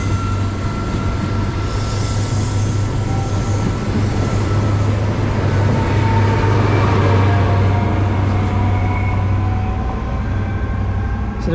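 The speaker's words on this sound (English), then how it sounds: "that's the 1327 Great Western Railway service from Exton and Exeter to Penzance, and that one sounded amazing as it went out" Great Western Railway HST with power car 43.160 departing on the 13:27 service to Penzance: loud, sustained diesel engine drone with rising tones, steady and close throughout.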